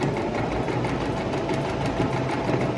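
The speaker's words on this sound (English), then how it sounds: "Okay, he can start sewing" Sewing machine stitching a tassel pillow from scrap fabric, a steady continuous mechanical whir and rapid needle clatter running without a break throughout, fairly close and loud.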